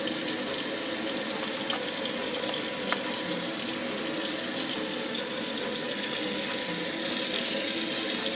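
Ice-dyed fabric being rinsed under a running tap, with water gushing steadily into a sink in a continuous, close, loud splashing flow throughout.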